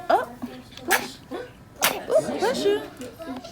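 A sharp sneeze bursts out amid casual conversation, with a couple of short breathy sounds before it and people talking around it.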